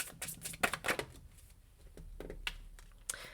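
A deck of tarot cards shuffled close up, a quiet series of quick papery riffles and flicks, busier at the start, thinning to a low rustle, then a last few snaps, with no talking.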